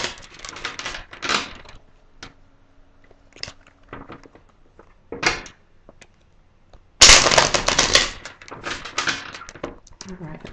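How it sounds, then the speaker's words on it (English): Tarot cards are shuffled in several short riffling bursts, close and crisp, ending in a louder longer shuffle, with a person talking briefly between them. "Just gonna do two more shuffles"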